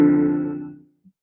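A single blues IV chord struck on a piano rings out fully and fades away over under a second, leaving silence with no voice.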